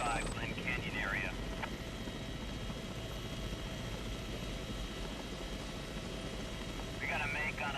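A helicopter flies over the Glen Canyon area, its steady rotor chop and engine drone filling the scene, with brief radio chatter at the start and end.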